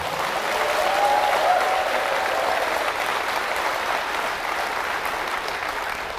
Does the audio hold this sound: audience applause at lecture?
yes